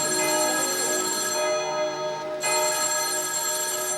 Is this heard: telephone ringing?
yes